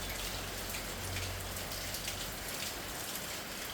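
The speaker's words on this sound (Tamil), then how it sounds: "காலையில் 6 மணிக்கு தொடங்கின மழைங்க." Steady rain falling outdoors in a continuous even hiss, moderately close, with no voices.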